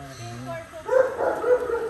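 A cane corso dog gives a few short, close barks and yips, with a voice talking just before.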